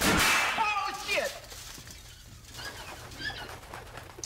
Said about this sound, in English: We got a bunch of birds up there.